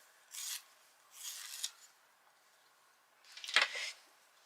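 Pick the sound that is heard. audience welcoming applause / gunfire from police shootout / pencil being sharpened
pencil being sharpened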